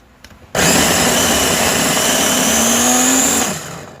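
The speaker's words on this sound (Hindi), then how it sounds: "अब मैं दोबारा इसको आपके सामने ग्राइंड करता हूँ।" A mixer grinder grinding a natural remedy paste roars to life and runs loud and steady with a high motor whine for about three seconds, then winds down.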